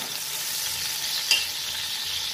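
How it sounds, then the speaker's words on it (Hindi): Onions frying in about 100 ml of hot oil for Muradabadi biryani give a steady, close broadband sizzle, with one brief clink of a stirring utensil partway through. "अब इसके अंदर प्याज ऐड करेंगे, प्याज को हम गोल्डन करके निकाल लेंगे"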